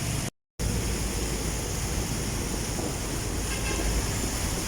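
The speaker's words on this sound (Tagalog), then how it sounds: "mabugso bugso po yung lakas ng hangin" Strong, gusty wind during heavy rain after Typhoon Carina buffets the microphone as a dense, loud roar, broken once by a brief dropout near the start.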